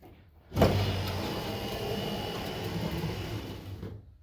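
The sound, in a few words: 1968-72 Vista Cruiser power window moving up and down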